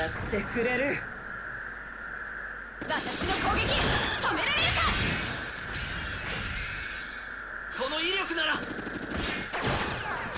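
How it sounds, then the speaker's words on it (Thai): Vileta's cannon firing in the mobile game Code Geass: Lost Stories, heard as bursts of booming, crashing blasts separated by quieter stretches, loud and layered with game effects while someone talks over them. "ยิงปืนใหญ่ของวิเลต้านะครับ เครื่องกอเซเตอร์นี่แหละ ยิงซะเลย"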